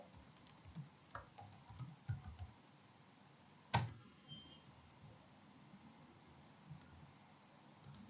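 Typing on a computer keyboard in a terminal, with quiet scattered key clicks and one louder tap, faint and close in a hushed room.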